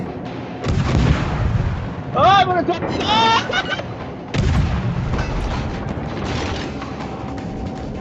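Booming explosions and gunfire from a boat combat video game, several loud blasts with rumbling tails, while players shout excitedly over the action.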